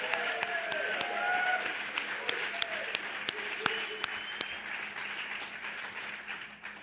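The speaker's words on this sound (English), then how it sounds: "Let's give them a round of applause." Faint, distant applause from an audience at a talk held in a church on Veterans Day, with scattered sharp individual claps standing out over a soft wash of clapping and a murmur of voices.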